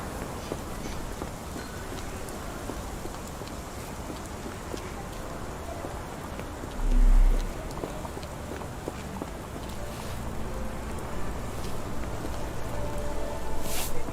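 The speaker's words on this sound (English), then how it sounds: "This dreary rain is making a miserable day even worse." Steady rain falls in Sherlock Holmes The Awakened, a constant wash of dense patter with a short low thump partway through, continuous and fairly close with no voices.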